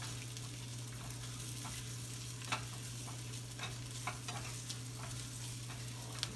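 Soft-scrambled eggs are stirred in hot oil over a fire, giving a low, steady sizzle with occasional scrapes and small clicks from the utensil against the pan. A constant hum runs underneath and no one talks.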